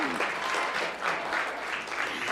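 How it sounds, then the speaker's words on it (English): A steady, full round of applause from an audience at a community service day event, continuous dense clapping at even loudness throughout. "I'm going to ask you to give a round of applause for our President Aziz for all that she has done today."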